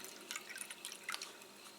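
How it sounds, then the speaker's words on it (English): Water poured into a succulent soil mix gives a faint, close trickle with light drips and splashes spread through under two seconds, with no voices. "then I'll put some water"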